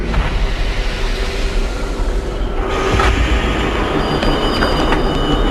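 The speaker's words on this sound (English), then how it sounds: "The train seemed to actually be coming to a stop." A subway train rumbles along steadily with wheel squeal and metallic clatter, the noise shifting midway as it seems to slow, loud and close with no voices.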